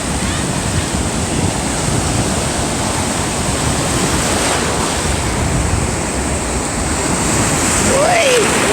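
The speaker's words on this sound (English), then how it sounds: "Big waves come in." Steady roar of big ocean waves washing up on a beach at Tybee Island, broad and loud throughout, with a brief higher whistle-like sound near the end.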